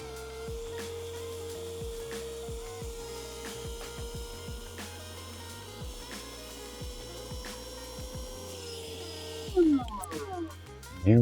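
A portable Etenwolf S7 tire inflator running steadily with a constant motor hum and regular rhythmic pulsing, stopping near the end as handling noises follow.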